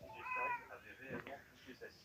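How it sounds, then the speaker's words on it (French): A house cat gives a brief whiny meow close by, mixed in with voices and background sound. "Désolé pour les miaulements, il y a le chat, le petit minou."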